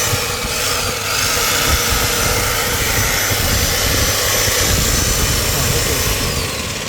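A crushing machine runs in a shop in Nawabpur, Dhaka, giving off a loud, steady, unbroken mechanical roar from start to finish.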